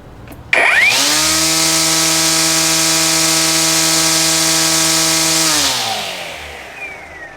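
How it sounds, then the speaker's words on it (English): An EGO 16-inch carbon fiber battery string trimmer spins up from a click into a steady, loud, high-pitched whine, holds it for several seconds, then winds down and fades. "So we'll check out the decibels on this string trimmer."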